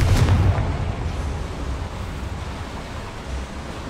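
A Confringo spell explosion in a video game sounds as a loud, broad roaring blast that begins hard and then rumbles on steadily, with no speech.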